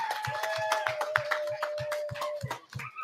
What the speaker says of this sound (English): And let's give her another round of applause for that dope stuff that she did up there.